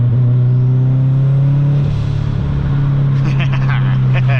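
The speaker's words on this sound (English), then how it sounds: "It sounds a lot smoother than what the old turbo sounded like." A car engine with a newly fitted turbo drones loudly and steadily nearby, its pitch dipping briefly before settling back, with a person starting to talk near the end.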